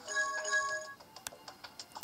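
An ordinary office desk telephone rings in the NCIS 3D crime video game, a bright electronic trill for about a second, then a few soft clicks and taps.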